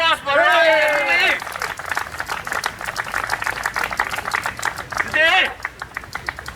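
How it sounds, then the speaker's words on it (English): An audience at Speaker's Corner claps in a sustained burst of applause with scattered cheers, fairly close and loud, while a voice with sliding sung or called tones rises over it near the start and again near the end. "Another round of applause for Yearning and Hui."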